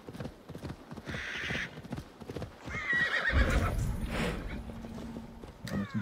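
A horse in Assassin's Creed Valhalla clip-clops along at a steady walking rhythm, then lets out a loud neigh midway, with hoofbeats continuing close by over a low game backdrop.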